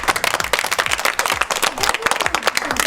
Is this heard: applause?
yes